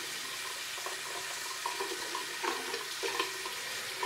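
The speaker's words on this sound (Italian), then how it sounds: "Vado a risciacquare il Raso Rock, che è nuovo, con l'acqua caldissima" Very hot tap water runs steadily into a sink while a new RazoRock safety razor is rinsed under it, a constant hissing splash with a few brief knocks and splatters as the razor moves in the stream.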